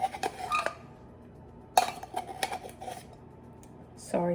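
Metal tongs clink and scrape against a bowl while chicken gets coated in flour and baking powder, with a few scattered clatters separated by quiet gaps, fairly close and soft.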